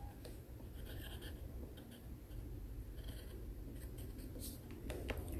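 A pencil writes the date on paper with a soft, steady scratching that continues close and faint for several seconds, with no one speaking.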